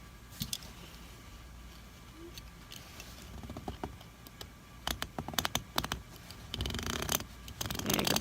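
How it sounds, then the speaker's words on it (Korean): Small snipping and plucking ticks while the sleeve seam of a coat is unpicked, quick irregular clicks in clusters, close and fairly faint, with no talk. "그러면 여기 먼저 뜯겠습니다."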